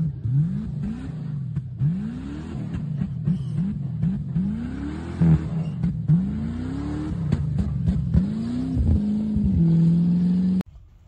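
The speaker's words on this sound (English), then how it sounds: "when you take off in first gear and you try to give it an extra throttle to get up it, it starts breaking out and hesitating like this" Jeep Grand Cherokee WJ with the 4.7 engine pulling away in first gear, its engine note surging and stumbling as it hesitates under extra throttle, with repeated uneven rises and dips in revs heard close up for about ten seconds.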